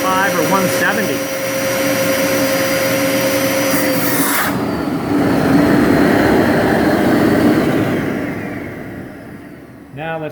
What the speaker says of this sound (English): Both vac motors.